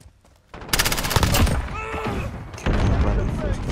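Rapid gunfire in the video game Call of Duty Modern Warfare, loud bursts of automatic shots and thuds, with a brief pause before firing resumes; no voices.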